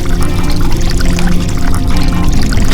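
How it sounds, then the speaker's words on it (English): Water pours steadily into a shaker cup holding drink powder, a continuous splashing rush that stays loud and even from start to finish with no talking over it. "now we should probably pour up some water"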